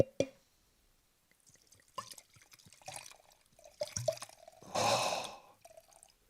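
Wine poured into a plastic glass: a short gurgling splash, a quiet pause, then a run of trickling and dripping that builds to a loud, steady gush near the end before tapering off.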